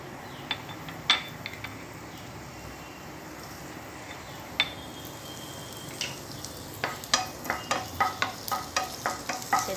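Chopped garlic and green chilli frying in butter in a pan for pasta, a soft steady sizzle with sharp clinks of a utensil stirring, which quicken into a regular tapping toward the end.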